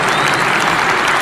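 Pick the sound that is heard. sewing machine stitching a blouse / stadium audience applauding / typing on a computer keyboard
stadium audience applauding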